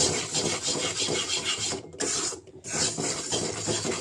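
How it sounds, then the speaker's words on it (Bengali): Rice flour dry-fried in a pan for payesh, a steady close scraping and rasping of spatula through dry flour across the pan, continuous apart from a couple of brief gaps near the middle. "পায়েস চালের আটা এটা রাইস ফ্লাওয়ার একটু আমি ভেজে নিচ্ছি ভেজে পায়েস করব"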